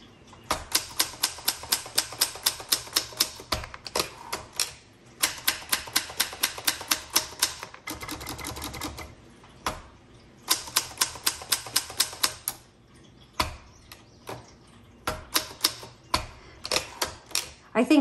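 Typing on a 1966 Olympia SF travel typewriter with cursive font: crisp, rapid keystroke clatter in bursts separated by short pauses, close and loud, with no talking.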